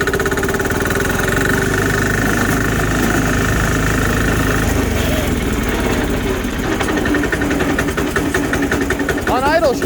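A diesel engine idles on a Sears garden tractor, a loud steady chugging rumble close by that runs unbroken, with a voice talking over it.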